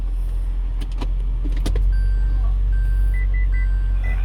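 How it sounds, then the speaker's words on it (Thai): A Toyota Cross Hybrid shifted into reverse sounds a few clicks and then a series of short electronic reversing beeps over a low idle hum inside the cabin. "อันนี้เวลาเราใส่เกียร์ถอยนะครับ"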